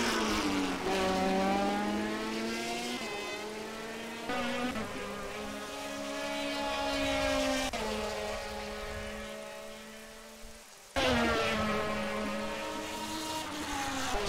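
A BMW DTM race car screams past at Hockenheimring, its engine note rising and falling through gear changes, then a loud fresh burst as another pass begins, loud and close with no voices.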